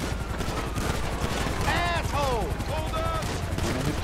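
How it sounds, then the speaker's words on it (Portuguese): Dense, continuous gunfire from police in GTA 5 Online fills the clip, with a few whooshing, whistling effects layered over the steady barrage. "E a polícia tá me acertando tiro, velho."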